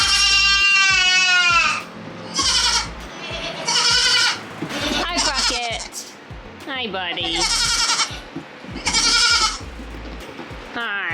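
Young goat kids bleat repeatedly in close, loud, wavering cries, several calls overlapping and alternating with a person talking gently to them on a small farm where male kids are kept as pets.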